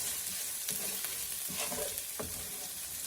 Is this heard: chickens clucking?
no